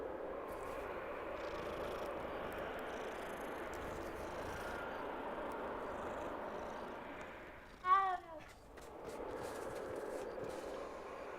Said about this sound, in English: Gotta pet the cat.